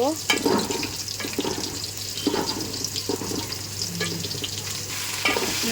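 Onions and ginger fry in hot oil for pulao, a busy close sizzle with repeated stirring scrapes and clatter of a spoon against the pot, continuing without pause.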